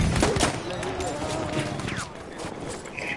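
Dense, continuous gunfire from a Battlefield 1 battle, rapid shots layered over each other in a steady roar, with voices talking over it.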